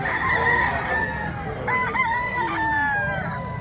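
A rooster crows loudly and close, several drawn-out calls in a row, with clucking hens and farmyard noise in the background.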